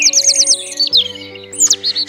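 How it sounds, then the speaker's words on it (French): A white-plumaged common blackbird chirps close by in quick, looping whistled notes over a steady tonal hum, loud and clear with brief pauses between phrases, in Plérin, Côtes d'Armor. "Un merle blanc est un merle commun"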